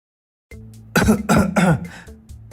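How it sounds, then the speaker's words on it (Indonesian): A person coughs three times in quick succession, close and clear, against a soft room hum with a brief pause before the coughs. "Kamu kenapa tiba-tiba batuk?"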